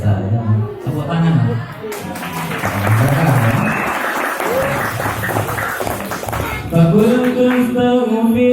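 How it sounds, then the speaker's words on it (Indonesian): An audience at an Islamic religious gathering in Balong, Sawit breaks into sustained applause, dense and moderately close, with a voice talking and chanting over the clapping. "Tepuk tangan."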